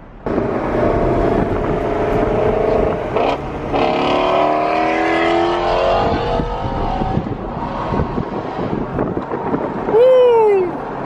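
Ford Mustang GT350R engine revving and pulling away, a loud sustained roar with rising and falling pitch sweeps under heavy wind buffeting, fading as the car drives off.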